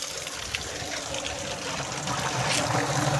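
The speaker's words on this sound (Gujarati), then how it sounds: "આજ છે લેટ ફૂલ આવેલી એટલે પાણી ભરાય છે." Water pours into a storage tank on a dairy farm, a steady, close, rushing hiss that grows slightly louder toward the end.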